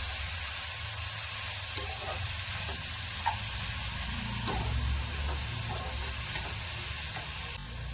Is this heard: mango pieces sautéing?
yes